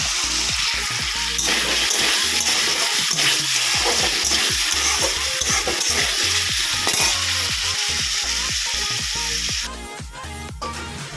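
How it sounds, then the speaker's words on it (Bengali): Potatoes fry with mung dal in a pan, a dense, loud sizzle that crackles steadily and close with stirring clatter, ending in a brighter hiss. "আর এখন একটু আলু ভাজা করছি মুগ ডালের সাথে।"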